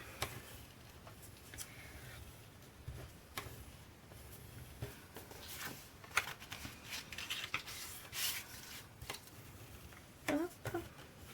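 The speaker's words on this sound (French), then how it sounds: "Alors, on va faire nos plis." Paper being folded by hand for a scrapbook album page: soft creasing, rubbing and light ticking taps, faint and close, come in short irregular bursts over a quiet background.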